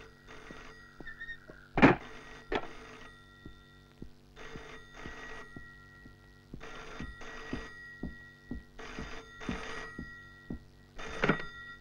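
A telephone bell rings in repeated bursts over about twelve seconds, each ring a clear electronic trill with short pauses between, fairly close and alone in a quiet room.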